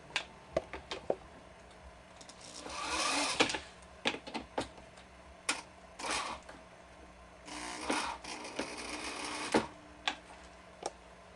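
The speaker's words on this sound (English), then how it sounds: "I'm just going to put these drywall screws in through those holes" Drywall screws are driven into the corners of metal corner pieces for a DIY dance pad, with bursts of whirring from a driver between sharp clicks and taps, close and clear.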